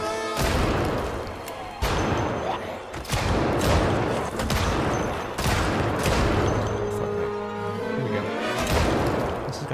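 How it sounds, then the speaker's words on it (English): Rapid bursts of gunfire shooting at zombies in a mall in a zombie survival video game, loud repeated volleys and sharp cracks with crashing impacts, a voice talking over parts of it. "I start firing my gun."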